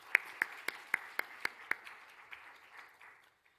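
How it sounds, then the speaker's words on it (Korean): A short round of clapping at a Bible academy certificate ceremony in a Korean church: several distinct, fairly quiet claps in a loose rhythm that thin out into a soft, fading patter over about three seconds. "박수 한번 하겠습니다."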